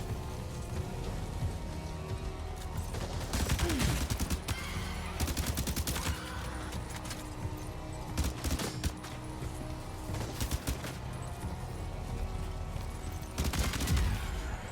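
Gunfire in the video game Death Stranding 2, dense rattling bursts of rapid shots over a constant rain-like wash, with several louder volleys standing out.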